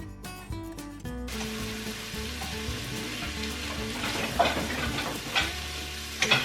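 Cheap frozen mixed vegetables tipped into a hot pan fry with a close, constant crackling sizzle and scattered pops, after a brief tonal sound at the very start.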